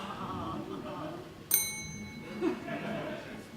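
A single ding of a small hand bell in a radio studio, bright and ringing briefly over ongoing conversational voices and a soft chuckle.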